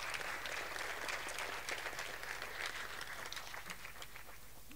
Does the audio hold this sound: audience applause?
yes